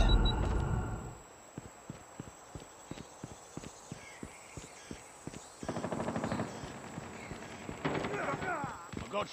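Rapid gunfire from a Call of Duty match, a regular string of sharp shots fired one after another, then denser bursts of fire later on, with game voices heard over it.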